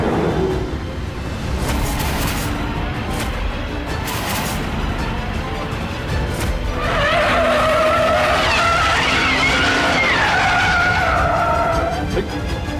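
A car with a punctured tyre skids, giving a loud continuous rush of road noise that rises into a sustained, wavering tyre squeal in the second half, with no talking.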